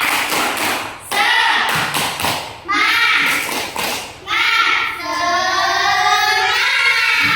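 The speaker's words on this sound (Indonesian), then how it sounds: "Nah, coba tepuk semangat." Children in a classroom perform the tepuk semangat clapping chant, a loud rhythmic run of claps and thumps mixed with their chanted voices, pausing briefly between phrases.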